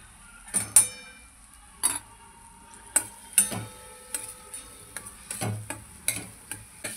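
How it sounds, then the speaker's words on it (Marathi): Turmeric-spiced masala for aloo paratha filling fries softly in a pan, its quiet sizzle broken by several sharp clinks and scrapes of a spoon stirring against the metal. "आपला मसाला चांगला फ्राय झाला."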